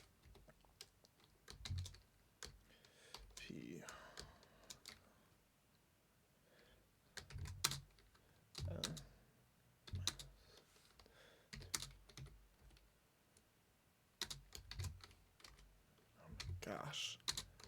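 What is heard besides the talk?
typing on a computer keyboard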